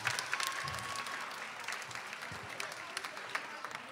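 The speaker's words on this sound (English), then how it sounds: "a round of applause, please" Audience applause at a school spring choral concert, a steady wash of clapping from a hall crowd with faint voices mixed in, moderately quiet and sustained throughout.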